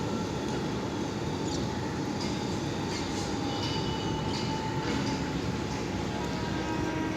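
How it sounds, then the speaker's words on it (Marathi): A train rumbles past at a distance, a steady broad roar filling the whole stretch with faint clanks on top. "तिकडे ट्रेन चाललेली आहे"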